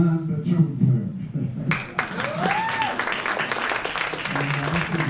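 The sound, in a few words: audience applause at a jazz band concert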